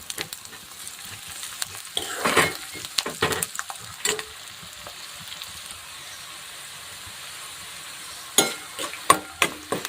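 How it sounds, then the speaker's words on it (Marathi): Onion, green chili, garlic and cumin frying in hot oil in a pan, a close, continuous sizzle broken by scraping stirs and clinks. "मी छान असं दोन ते तीन मिनटं तेलामध्ये छान मिरची तळून घेतलेले कांदा मिरची लसूण जिरं"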